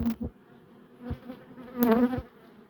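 Honeybees buzz around an open hive frame, close by, in uneven swells with a louder surge near the end.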